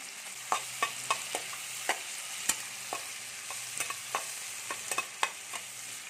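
Onions and tomatoes with salt frying in a pan for a cabbage and fish head dish: a soft continuous sizzle broken by a dozen or so sharp spatula scrapes and taps at an irregular rhythm, no voices.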